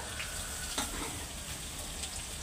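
Onion frying in a pan after garlic, a quiet, even sizzle with a couple of brief clicks and stirring knocks and no talk over it.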